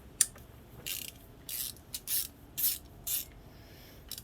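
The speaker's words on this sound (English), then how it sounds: "I'm going to put my 8mm socket on that. I'm just going to crack it loose." A ratchet with an 8mm socket works a motorcycle brake banjo fitting loose, giving a series of short, close ratcheting clicks in uneven bursts, alone and fairly quiet.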